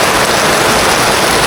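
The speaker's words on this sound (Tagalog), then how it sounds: "Sobrang lakas ng ulan." Heavy rain pours off a roof in a loud, continuous broadband rush that stays constant for the whole moment, with no talking.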